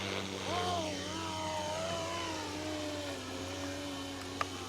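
An Airwolf RC helicopter spooling up for takeoff, its rising whine sweeping upward and then settling into a steady hum under a constant low drone, close and fairly loud, with one sharp tick near the end.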